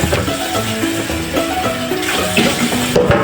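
Water from a kitchen tap streams steadily as food is rinsed before cooking, a continuous close splashing rush with some shifting tone as hands move under the flow, no voices.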